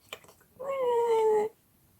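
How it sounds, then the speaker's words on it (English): A small dog licking her paw lets out a single close, high whining cry lasting about a second, with near silence on either side. "If you hear a crying noise, it's because my little dog is licking her paw."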